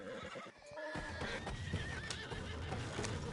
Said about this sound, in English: There goes one of the horses, Arthur.